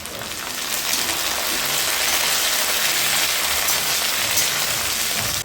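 Curry leaves sizzle in hot oil with fried onions, a loud, steady crackling hiss that runs unbroken for several seconds with no talking.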